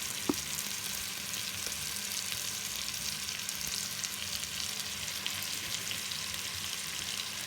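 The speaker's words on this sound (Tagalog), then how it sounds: "At gisahin natin yung bawang." Garlic sautés in oil in a cooking pot as a steady hissing sizzle throughout, with one small knock near the start and no talk.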